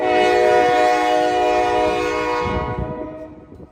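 A loud, sustained freight train horn blares nearby in Lexington, Kentucky, for a few seconds, then cuts off, leaving the rumble and rattle of rail cars.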